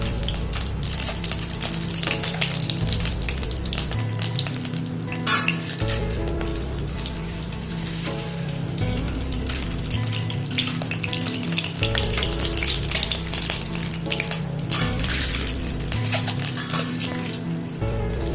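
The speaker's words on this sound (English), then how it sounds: "It's been around half a minute I've been frying my eggs" Continuous sizzling of eggs frying lightly in a pan, with occasional clinks of a utensil against metal and a low hum underneath.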